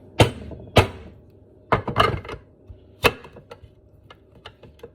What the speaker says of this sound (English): we're gonna use our veggie wedger to wedge our potatoes to put them in slices